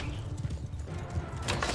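Horse in the video game Mount and Blade 2: Bannerlord, hooves clip-clopping amid a dense, noisy battle din, brief and moderately loud.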